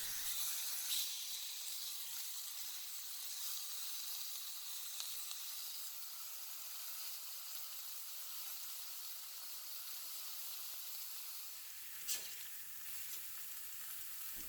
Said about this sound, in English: because I'm working with a cast iron griddle on a high heat, it's going to get some beautiful charring and flavor